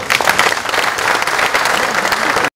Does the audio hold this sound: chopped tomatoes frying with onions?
no